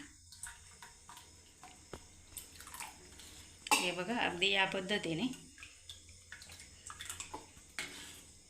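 Water splashes into a Khandeshi-style sev bhaji curry cooked in whole-spice masala, a loud pour lasting about two seconds in the middle, with someone talking before and after.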